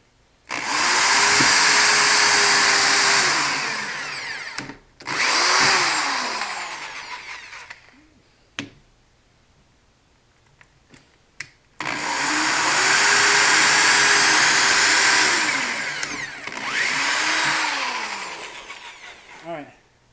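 A handheld power drill bores into material in two long bursts, each revving up, holding steady and winding down, separated by a quiet pause with a few small clicks and taps.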